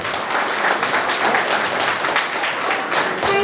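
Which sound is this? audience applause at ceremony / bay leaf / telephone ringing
audience applause at ceremony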